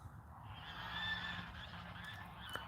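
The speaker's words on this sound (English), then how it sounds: "The geese were squawking a little bit, I think." Geese squawk at a distance on an outdoor high-desert homestead, a faint, drawn-out honking chorus rising and falling over low background rumble, with a brief knock near the end.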